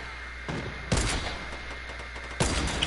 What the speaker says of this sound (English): I feel bad sniping with this gun.